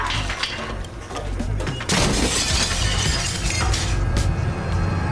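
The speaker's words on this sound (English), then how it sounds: "his character smashes a bathroom mirror" A bathroom mirror is smashed by hand in a movie scene, giving loud, dense shattering glass with crashing impacts and tinkling shards that keep going for several seconds, close and harsh, with no talk.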